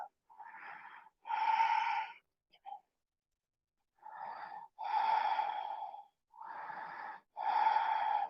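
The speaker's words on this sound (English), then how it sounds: "Big breath in. Big breath out." Deep breathing during a yoga flow, slow audible inhales and exhales through the nose in long paired strokes with brief gaps, close and breathy with no speech.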